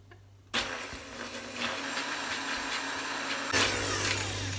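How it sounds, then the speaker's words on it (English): A blender whirs loudly and steadily for about four seconds while blending a chipotle mayo sauce, with a brief surge in pitch and intensity near the end and no talking. "We're gonna go ahead and blend this baby."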